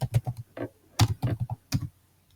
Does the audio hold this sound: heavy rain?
no